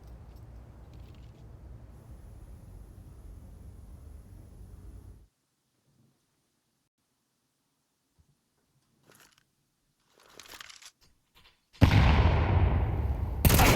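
Grenade explosion in Counter-Strike on the Mirage map during a pro match: after a stretch of steady low rumble and near silence, a loud broadband blast bursts in and roars on to the end.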